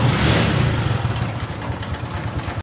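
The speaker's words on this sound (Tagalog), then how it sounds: "Sakay po kami ng tricycle." A motorized church tricycle in Palawan carries riders, its mid-pitched engine droning steadily and close throughout with a slight swell early on, no talking over it.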